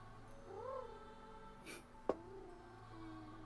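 A person imitating sleepy cat noises, giving faint drowsy mews and a short grumbling purr, followed by a single sharp click, quiet and close.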